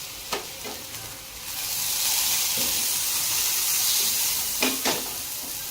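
Dhapate flatbread with curd, cooked on a hot griddle with oil and a splash of water, gives a loud, steady hiss and sizzle. A few brief clatters from handling come at the start and near the end.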